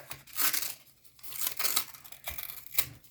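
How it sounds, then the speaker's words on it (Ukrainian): Crinkly plastic is torn open in several short, rustling rips with brief pauses between them, close and fairly quiet. "І тут зараз відкриємо наш пакетик."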